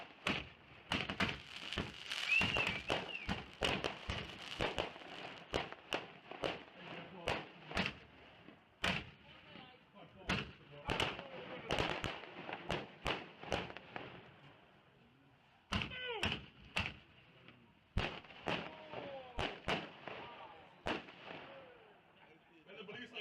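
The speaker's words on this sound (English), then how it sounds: "Then we had a little firework action afterwards." Fireworks set off at night after a Super Bowl gathering while sailing, a rapid run of sharp bangs and pops with crackling, some louder and some farther off, stopping briefly and then starting again.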